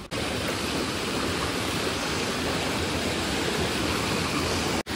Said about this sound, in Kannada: ಈ ಕಡೆ ನೀರು ಹೊಂಟೈತಿ, ಇಲ್ಲಿ ಮ್ಯಾಲಿಂದ ನೀರು ಬರಾಕತ್ತೈತಿ